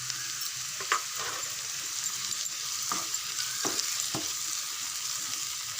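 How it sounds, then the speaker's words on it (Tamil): Onions, tomatoes and curry leaves sauté in a pan for an egg fry, a steady bright sizzle with a few soft knocks of stirring. "இது கொஞ்சம் வதங்கட்டும் ஒரு 2 நிமிஷம்."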